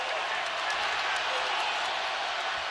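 Basketball arena crowd roaring during a Gonzaga versus North Carolina game, a dense, loud, continuous wall of cheering that never lets up, with faint talk underneath.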